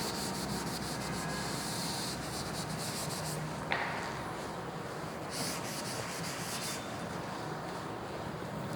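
Steady rubbing of writing off a board during a physics lesson, a continuous soft scraping texture at low volume with no talking.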